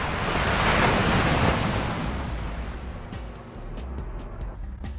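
Ocean surf rolls at the water's edge, a loud, broad wash of breaking waves mixed with wind buffeting the microphone, swelling and easing steadily without speech.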